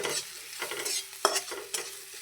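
Chili powder and grated ginger frying in a pan, stirred with a spoon: a steady sizzle broken by several distinct scraping stir strokes, close and moderately loud, with no talking.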